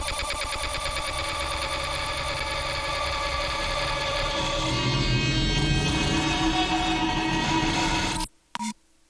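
Electronic music track played dry without a lossy degradation plugin, a dense, loud, pulsing texture with rapid stuttering repeats that thins out before stopping abruptly, followed by a short burst and silence.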